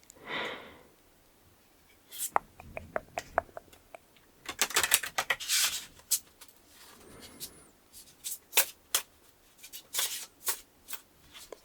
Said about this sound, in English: it's a little tough to shuffle these